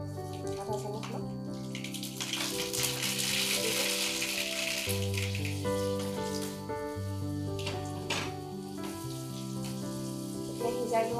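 Sliced green chili and half a spoon of mustard seeds sizzle in hot oil while cooking an Assamese tangy fish curry, a steady hiss running through the clip beneath louder background music.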